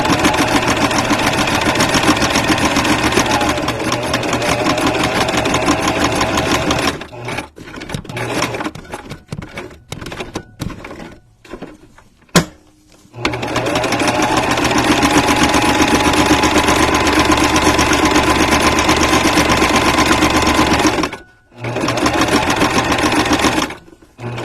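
A domestic sewing machine stitches the binding of a handmade journal, running in long steady buzzing bursts with a rapid mechanical rattle, close and loud, broken midway by stuttering stops, short clicks and brief pauses before starting again.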